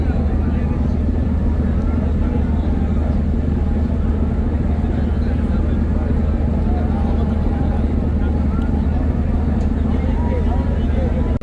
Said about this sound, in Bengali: ময়দান থেকে ছেড়ে যাচ্ছে বর্তমানে কেবু বারানুলির অন্যতম সদস্য এমপি পারাবাদ পনেরো